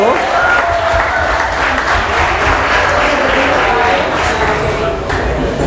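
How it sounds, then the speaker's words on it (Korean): A congregation at a church evangelism convention in Havana, Cuba applauds loudly and continuously for the newlywed couple, a thick wash of clapping from a large crowd with some voices mixed in underneath. "자, 박수."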